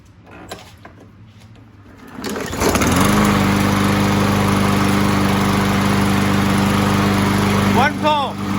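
A 2017 Yard Machines mower with a 140cc Briggs & Stratton engine and a dirty carburetor fires on one pull and settles into a loud, steady close-up drone that runs on without a break.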